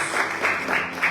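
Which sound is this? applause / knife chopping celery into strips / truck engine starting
applause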